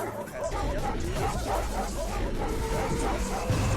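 Guard dogs in a Steve Harmon stealth game bark and yip in a busy, dense mix that runs throughout, with steady noise and murmuring voices underneath.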